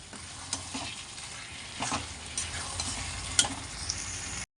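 A spoon stirs poppy seed and green chilli paste into cooking ridge gourd and potatoes in a pan, soft scraping strokes over a gentle sizzle, close and without talk.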